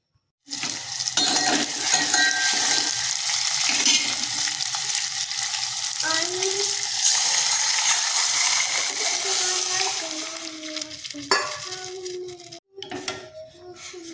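Spices hit hot oil with a sudden, loud burst of sizzling that gradually settles, while a spoon clinks and scrapes against the pan; turmeric and coriander have been added.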